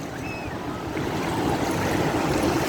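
Waves wash steadily onto a beach, a soft continuous hiss of surf that swells slightly partway through, with no talking.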